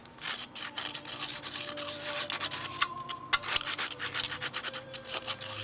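Quiet, uneven rubbing and scratching of sandpaper on carbon fiber, short strokes with little pauses, close by, a faint tonal hum in the background.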